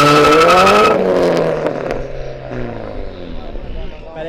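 A Nissan GT-R's engine screams at full acceleration at over 300 km/h, a loud rising tone that then drops into a lower, rougher roar with wind noise; someone talks over it.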